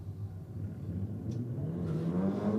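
A Nissan S15 at a drag racing event performs a burnout, its engine droning steadily and then rising in pitch as it revs, heard at a moderate distance with a faint background whir.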